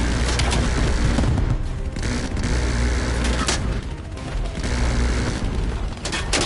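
Sustained gunfire and explosions from Call of Duty Black Ops Cold War, loud overlapping shots and booms rolling on continuously with sharp cracks scattered throughout.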